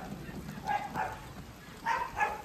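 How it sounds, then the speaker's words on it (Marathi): A dog on a rural farm with ducks and aseel roosters barks a few times in quick pairs, somewhat distant and moderate in volume, against faint background noise. "तो भुकतो तिकडे निसता."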